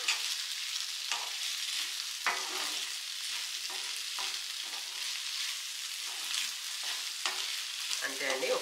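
Prawns and broccoli are stir-fried with sugar and pepper in a pan, producing a continuous close hissing sizzle broken by regular scraping stirs of a spatula, with no voices.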